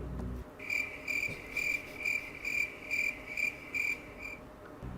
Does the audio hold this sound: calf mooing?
no